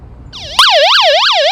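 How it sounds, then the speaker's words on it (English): A loud, piercing electronic SOS alarm siren from a handheld emergency radio wails up and down in quick repeated sweeps after a brief rising tone, close and alone. "it also has an SOS alarm. If you press that and hold it for 2 seconds, it will go off."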